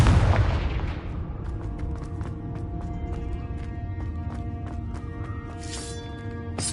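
A booming spell blast from the Confringo curse in Hogwarts Legacy on PS5 hits loud at the start and then rumbles away under a lingering tonal game score with small crackles.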